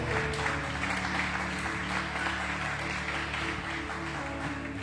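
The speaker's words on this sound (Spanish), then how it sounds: "Denle un aplauso al Señor, hermano, por favor." Applause from a church congregation during a Thursday service, a steady, fairly quiet clapping heard at a distance over a hum of room tones and low background voices.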